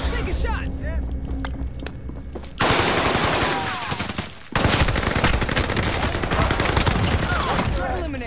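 Bursts of rapid automatic gunfire in Call of Duty Warzone, dense cracking volleys that break off briefly and resume loudly, with voices talking underneath and a few scattered single shots before the firing starts.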